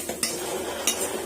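Cumin and coriander powder masala is stirred in a pan, with two brief scrapes of a spoon against the metal over a soft, continuous sizzle.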